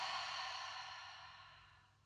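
A long, soft breath let out through the mouth during a beginner's upper-body practice, close and airy, fading gradually over two seconds with no talk.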